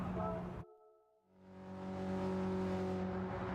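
A race car engine on track drops off sharply as the throttle is lifted, leaving a brief near-silent gap before a steady, humming engine tone swells back in and holds, close and moderately loud.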